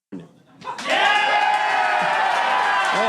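Bar crowd breaking into loud cheering and whooping after a brief shout, the roar swelling within a second and holding steady and close.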